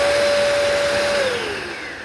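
A restored vintage vacuum cleaner runs with a steady, loud broadband whoosh and a high motor whine that holds, then dips in pitch as the motor settles, heard close and alone.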